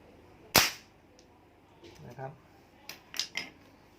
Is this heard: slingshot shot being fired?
yes